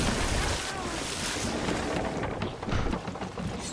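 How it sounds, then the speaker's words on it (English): In Sea of Thieves, seawater gushes into a ship holed by cannon fire, a loud continuous rushing wash mixed with wind and waves, with no one talking over it. "And now I'm letting the water from the holes get in that I made."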